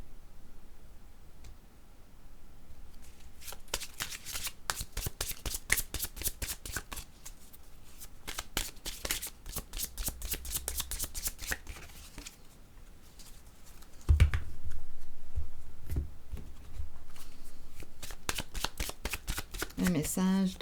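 Tarot cards being shuffled close up, a long run of rapid riffling patter with brief pauses and a sharper tap partway through, a voice speaking softly between the bursts.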